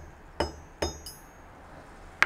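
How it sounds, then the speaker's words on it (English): A Prince Rupert's drop of toughened glass breaking, heard as two sharp, close glassy cracks a short way apart, then a fainter tick and a final snap at the very end, all over quiet background with no talk. "Luckily I have another one with long tail, and let's try this shatter."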